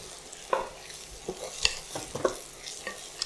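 Ingredients for chicken cacciatore are stirred in a pot: a quiet sizzle runs underneath while a spoon scrapes and knocks against the pot in a handful of irregular, close strokes.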